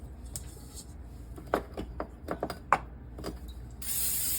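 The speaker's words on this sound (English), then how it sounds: "You want to spray your bowl here." A short hiss of cooking spray at the end, following soft clinks and taps of handling a bowl for dough.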